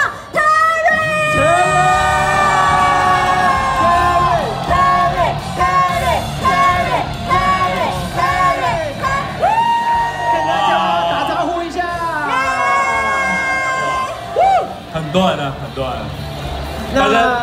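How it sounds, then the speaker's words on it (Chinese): A game expo crowd yells, whoops and cheers loudly and continuously, with a host's amplified voice and music over the noise. "让我们用最热情的掌声加尖叫声"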